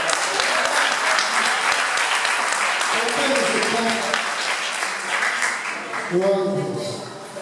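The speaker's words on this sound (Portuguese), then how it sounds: "Dê uma linda salva de palmas" A church congregation gives a long, dense round of applause, many hands clapping steadily for several seconds while a voice or music rises faintly beneath near the end before the clapping tapers off.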